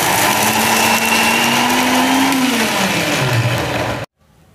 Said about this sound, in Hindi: अब इस नारियल को हम मिक्सर में चलाकर अच्छी तरह से ब्लेंड कर लेंगे।